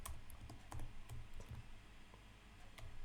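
Computer keyboard typing in bursts of quick key clicks with brief pauses, close and fairly quiet, while Python code is written; no voices.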